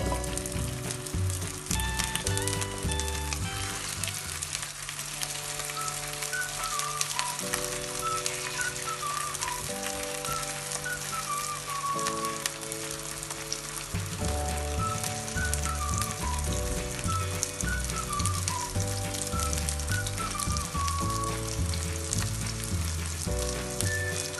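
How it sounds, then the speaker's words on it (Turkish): Chicken meatballs sizzle and crackle steadily in a hot pan with a little oil, a loud continuous frying hiss with light spattering and occasional faint tones in the background. "Köftelerimizi kızartmaya başlıyoruz."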